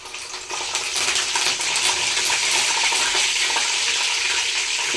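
Mustard seeds, cumin and curry leaves sizzle in hot oil as a tempering for tomato chutney, a dense, steady crackle and spatter heard up close for the whole stretch, with no talking.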